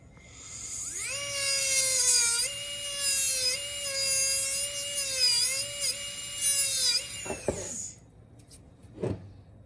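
A dental handpiece trimming a denture tooth gives a close, high-pitched whine that rises, holds and wavers for about six seconds as it grinds, then winds down, followed by a brief tap.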